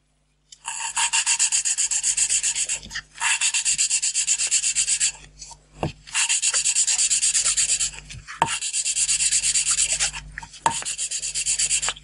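Valves of a Renault 4L engine being lapped by hand with grinding paste, a loud close gritty rasping in four long bursts separated by brief pauses, with no one speaking.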